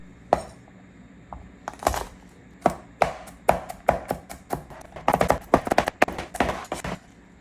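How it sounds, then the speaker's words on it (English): Garlic cloves crushed with a knife on a cutting board give a series of sharp, close thwacks and crunches, sparse at first, then quicker clustered strikes, with no talking over them. "Let's crush some garlic. I love the sound of it being crushed, don't you?"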